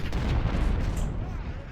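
Artillery cannon fire in the Ultimate General: Civil War video game, a dense continuous rumble of booms and gunfire rolling together at steady loudness with no clear gaps between shots.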